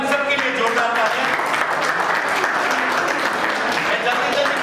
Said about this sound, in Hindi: एक बार इन सबके लिए जोरदार तालियां।